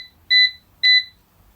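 Two short, clear electronic beeps from a Cosori air fryer control panel as its temperature and time are set, each tone about a quarter second long with a brief gap between, close and alone.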